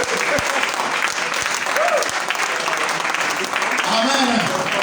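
A church congregation applauds its bishop during a Sunday service, steady loud clapping from many hands throughout, with voices calling out over it.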